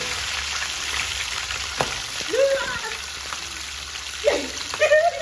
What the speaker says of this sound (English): Some burning garlic and scotch bonnet.